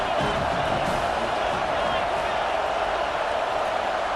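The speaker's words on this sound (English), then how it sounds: "Big 3rd down as the crowd gets behind this defense." A football stadium crowd roars steadily behind the defense on a big third down at a scrimmage, a dense, sustained wash of cheering with no letup, heard from within the stands.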